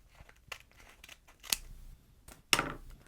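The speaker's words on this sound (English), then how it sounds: "And then I'm just gonna cut this." Scissors snip through a craft piece just lifted off a Cricut Joy cutting mat for a Dollar Tree pencil bag, several crisp close cuts spaced about a second apart, the last ones loudest, with no talking.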